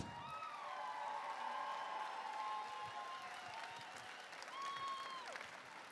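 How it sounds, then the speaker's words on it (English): Applause at the YuniCon 2023 Tournament of Champions convention event, a steady crowd clapping that holds for several seconds with cheers and whistles above it, moderately distant and not very loud. "Please give them a big and loud applause."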